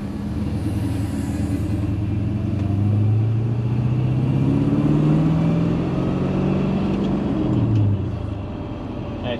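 A 1962 Pontiac Grand Prix's Tri-Power V8 engine rumbles steadily, rising and falling as it revs, heard from inside or close by, with no talking.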